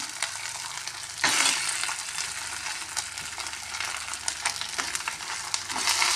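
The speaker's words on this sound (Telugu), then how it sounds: "బాగా మసాలా వేయించాలి।" Masala with onion, coriander and mint fries in a pan for carrot bhaji, a close continuous sizzle with repeated stirring scrapes, louder after the first second.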